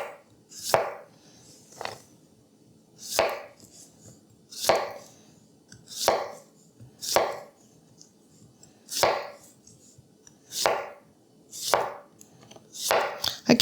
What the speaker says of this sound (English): Just cutting very easily.